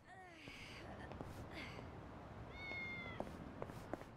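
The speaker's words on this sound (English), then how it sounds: "Oh, I hear a cat." Several short meows from a cat in the video game Yakuza: Like a Dragon, faint and spaced out over a low background hum.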